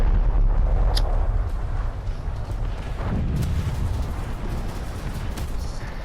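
Incoming naval gunfire in War Thunder naval battles: dense low rumbling blasts and roaring impacts, continuous and loud throughout, with a sharp crack near the start and a heavy boom around the middle.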